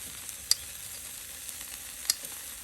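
Salt and pepper chicken wings browning on a grill give off a soft, steady sizzle, with a couple of sharp pops or ticks standing out against the quiet crackle.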